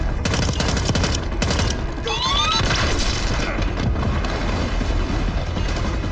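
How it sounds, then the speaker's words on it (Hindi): A grenade explodes during a casino mission in the Hitman video game, heard as loud booming bursts amid continuous dense gunfire and crashing effects that fill the whole stretch. "ग्रेनेड।"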